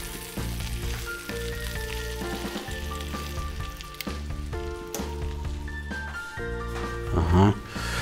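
Freshly flipped ossobuco steak pieces sizzle in a pan, a continuous crackling hiss running beneath a voice talking and a steady tonal background.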